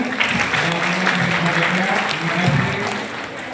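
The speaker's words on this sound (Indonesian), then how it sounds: "Tepuk tangan semuanya" A crowd applauds steadily for a few seconds, a dense wash of clapping that tapers slightly at the end, with a voice faintly underneath.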